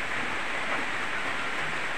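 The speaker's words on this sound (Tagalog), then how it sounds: "Umulan na naman." Rain pours steadily around a countryside hut as an even, close hiss with no breaks and no voices over its short span.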